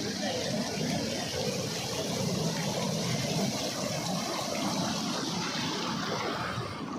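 Water flowing over the bathing steps at Papanasam in summer, when the flow is low, a steady broadband rush close by that continues without a break.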